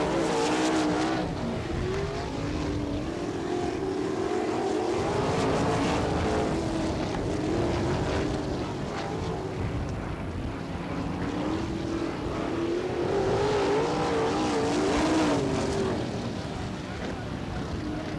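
410 sprint cars race laps on the dirt track at Attica, Ohio, their engines roaring in repeated swells as they pass and fade, with a commentator's voice over the noise.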